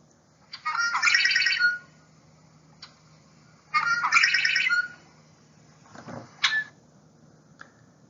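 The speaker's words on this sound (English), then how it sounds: "The red-winged blackbird is a common bird observed in marshes and grasslands" A red-winged blackbird in a marsh or grassland gives two bright, buzzy trilled calls a few seconds apart, followed by shorter chips and a sharp note, fairly close against a quiet background.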